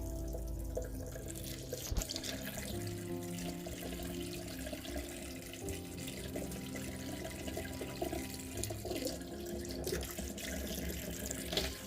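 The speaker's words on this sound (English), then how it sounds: "they were rinsed under running water to clean the solution off" Metal tracks for a 1/35 scale Panzer IV F.1 model are rinsed under a running tap, giving a steady, close splash and gurgle of water into a sink that continues throughout.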